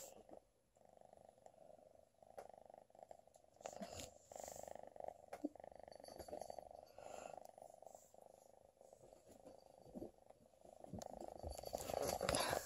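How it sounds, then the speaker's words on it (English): A soft, rhythmic cat purr close by, continuous and low, with faint rustling and small bumps around it. "Listen to that purr."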